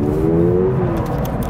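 A Toyota GR86 engine revs under throttle, a loud close droning tone that climbs and holds briefly before easing, with no speech.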